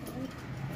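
Racing pigeons coo softly at a loft in Ilagan, Isabela, a low, murmuring call that lasts under a second, with people talking over it.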